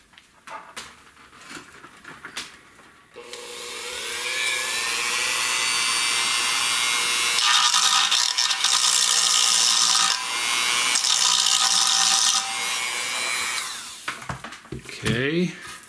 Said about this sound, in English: Try the tip of the Dremel here.